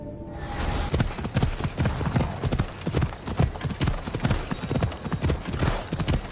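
Galloping horse hooves drum in a fast, loud, driving clip-clop rhythm while riding in Assassin's Creed Odyssey, close and continuous for several seconds with no talking over them.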